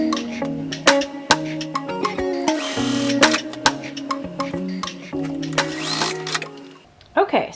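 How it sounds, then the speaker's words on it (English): A sewing machine stitching quilt block pieces together, running in short bursts of whirring with pauses and clicks between, close by, with a voice speaking in places. "I'm going to sew these together first so I don't lose track of how I want them together."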